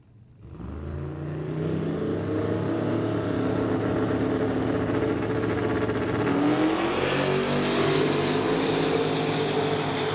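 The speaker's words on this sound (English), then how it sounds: "Both turbo cars a little sluggish off the line." Turbocharged drag race cars launch off the line at an outdoor Outlaw Shootout event, engines building from a rumble into a long, loud, sustained roar that rises in pitch as they accelerate away.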